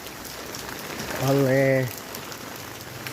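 Heavy rain pours steadily at dawn around a housing area near a mosque, a constant dense hiss throughout, while a voice speaks briefly in the middle.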